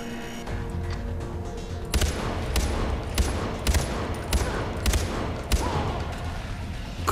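Gunfire in the video game Far Cry 4, a series of sharp, loud shots in irregular bursts over a steady background din, with no talk in between.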